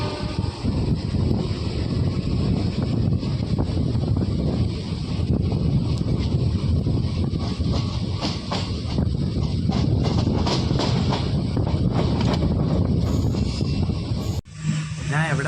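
A nearly empty MEMU passenger train running from Shoranur to Ernakulam gives a loud, steady rumble with a rushing, wind-like roar that continues throughout, then drops off abruptly just before the end.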